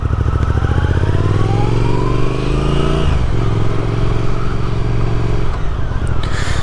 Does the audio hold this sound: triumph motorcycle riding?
yes